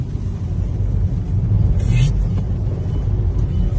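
A Chevrolet Onix accelerating on a rain-wet road gives a steady, loud interior engine rumble with a constant hiss of tyres on water, while a person talks over it.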